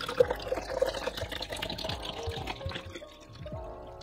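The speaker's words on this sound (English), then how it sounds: "we are going to fill it up with fresh water." Fresh water fills the water tank of a Nespresso Vertuo Next coffee machine, a running stream splashing and trickling into the plastic reservoir with small drips, steady and close, fading slightly toward the end.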